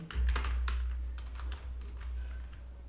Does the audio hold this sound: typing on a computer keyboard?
yes